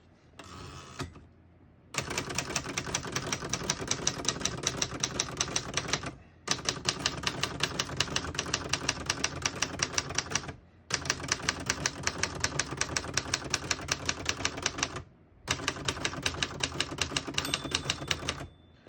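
Rapid, crisp keystrokes on a 1973 Remington portable typewriter clatter in long bursts, separated by short pauses, close and fairly loud.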